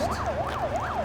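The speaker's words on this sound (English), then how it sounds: "An ambulance arrives so Jim can be treated in private" A wailing ambulance siren sweeps up and down in a steady, rapid rhythm, loud and close, with no voices.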